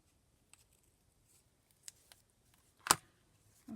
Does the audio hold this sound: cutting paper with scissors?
yes